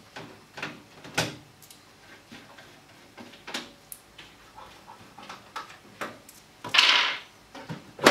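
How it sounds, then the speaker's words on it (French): An Aerocool Aero-1000 PC case has its side panels handled, with a series of light clicks, taps and knocks, then a short scraping sweep as a panel comes off, close and fairly quiet. "On tire les portes et ça s'ouvre très facilement."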